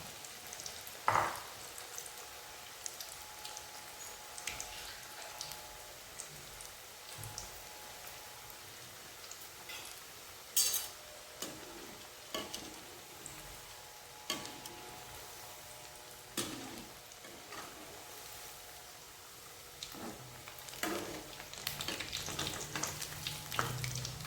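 Pori 65 frying in hot oil over a medium flame, giving a steady crackling sizzle with scattered pops and bursts that rises and falls across the stretch, heard alone without talk.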